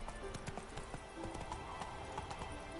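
Roach, a horse in a video game, gallops with steady clip-clop hoofbeats, loud and close, over a busy game soundscape.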